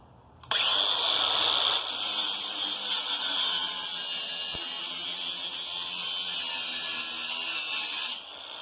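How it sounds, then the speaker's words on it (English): An angle grinder cuts through scrap metal beside plumber's copper, starting abruptly with a loud steady whine that holds for about eight seconds before winding down; no one speaks over it. "bust out the angle grinder"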